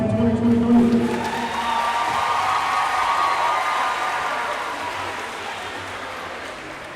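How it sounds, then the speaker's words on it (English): A crowd at a high school graduation decision-day event applauds for the graduating class, a dense, sustained patter of clapping that gradually fades toward the end. "Let's have one more round of applause for our class of 2023."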